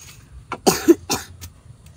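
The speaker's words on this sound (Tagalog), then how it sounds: "Dikit na dikit ang ubo mo" A woman who is ill with a fever coughs several times in quick succession, close and fairly loud, the short harsh bursts followed by a quieter throaty rasp.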